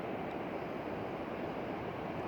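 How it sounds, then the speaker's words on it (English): Steady broadband wash of waves at a quiet New Zealand beach, a continuous close roar of surf with wind noise over the microphone and no voices. "you can just hear the water"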